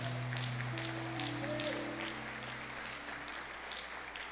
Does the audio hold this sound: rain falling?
no